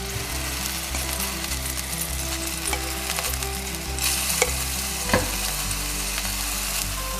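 Garlic fries in olive oil in a pan, a steady close sizzle over a constant low hum, with a few light scrapes and taps as it is stirred.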